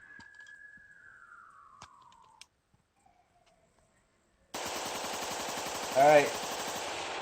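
An AR-15 rifle in the Escape from Tarkov video game fires a sudden, loud, rapid full-auto burst that lasts for several seconds. It follows quieter game sounds, a near-silent pause and a brief spoken word.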